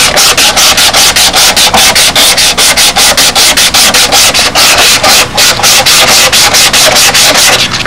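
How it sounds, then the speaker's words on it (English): Sandpaper rubbed by hand over a wooden aircraft rudder, a loud, steady run of rapid back-and-forth scratchy strokes in an even rhythm. "what's nice about using this sandpaper like this is you tend to really pick up the high spots."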